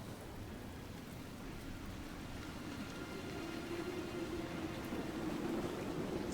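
Rain falls in Crestwood in Dragon Age Inquisition, a soft, steady hiss of downpour that stays faint and even throughout.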